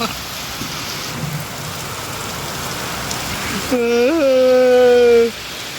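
Dense, steady rain hisses loudly throughout, and near the end a voice speaks briefly over the downpour.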